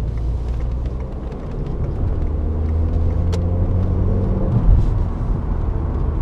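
A 2002 Citroën Xsara 1.6 16V engine hums with a steady low rumble while driving, the drone rising slightly as it accelerates, with faint road noise underneath.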